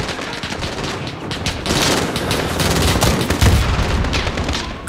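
Rapid bursts of gunfire from a Call of Duty: Modern Warfare match crackle continuously, dense overlapping shots and booms filling the whole stretch, loud and close with no talking.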